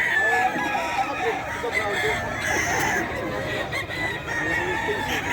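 Roosters crow amid the bustle of a busy pet market in Bocaue where chickens are sold, the calls rising over steady crowd chatter and people talking nearby.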